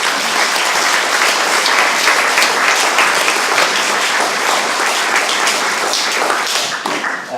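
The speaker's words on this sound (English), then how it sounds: "he deserves a round of applause for this beautiful." Warm, sustained applause from a full room at a literary evening, dense and even hand-clapping that keeps going for several seconds before trailing off at the end.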